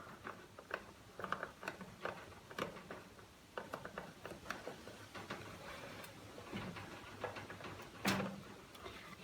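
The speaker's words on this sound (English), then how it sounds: "I can hold that there with my hand while I drive this screw in" Screw being driven into a wooden garden box, a series of short ratcheting, clicking bursts of a driver working the screw, near and moderately loud, with a sharper burst near the end.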